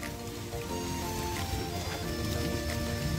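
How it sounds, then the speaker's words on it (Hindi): Steady rain patters down in a jungle while people shelter beneath a rock overhang on the Surajkund trails, a dense continuous hiss at close range with no talking. "चट्टान के नीचे यहाँ हम सर्वाइव कर रहे हैं बारिश में"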